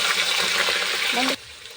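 Pieces of meat drop into hot oil with dried chillies and cumin in a pan, giving a loud, close, broad sizzling hiss that cuts off abruptly near the end.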